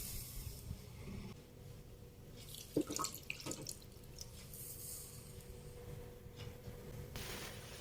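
Two glasses of water are poured into chicken cooking in spice paste in a pan, giving a faint, steady splashing stream over a background hiss, with a few louder gurgles partway through.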